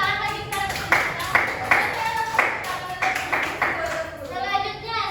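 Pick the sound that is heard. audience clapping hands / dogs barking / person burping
audience clapping hands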